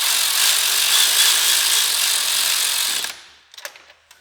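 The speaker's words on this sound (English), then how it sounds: "We'll get them snugged down with the ratchet, and then we'll go final torque with a hand ratchet." A power ratchet snugs down spark plugs on a Mazda Miata, whirring loudly and steadily for about three seconds before cutting off, followed by a few faint clicks and taps.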